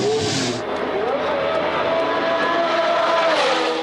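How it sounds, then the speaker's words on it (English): A 1970s-era Formula 1 race car engine drones loud and close in a pit lane, its pitch rising and falling steadily with a brief higher whine at the start. "Coherent speech was impossible over engine noise."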